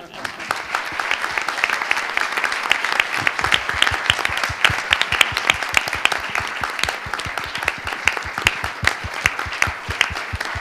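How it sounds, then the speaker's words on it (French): Audience at a business-school talk applauding the artist in a sustained, steady round of dense clapping that lasts the whole stretch, close and fairly loud, with a rhythmic unified clap pattern emerging partway through. "je vous propose tout simplement que l'on applaudisse l'artiste"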